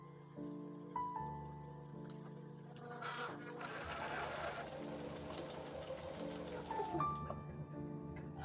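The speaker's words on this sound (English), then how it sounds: "Now we're ready to start sewing." Sewing machine stitching coat pieces for a Queen of Hearts cosplay, a mechanical whirring run that starts and stops in bursts over a steady low background hum, moderately loud and close.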